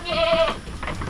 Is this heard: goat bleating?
yes